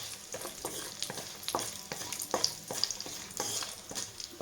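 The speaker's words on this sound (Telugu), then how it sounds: "ఇప్పుడు బిర్యానీ దినుసులన్నీ వేసుకుందాము. ఇది కూడా కొంచెం వేగాలి." Biryani spices and golden cashews fry in a pan, with close scraping stirs and a steady sizzle crackling throughout.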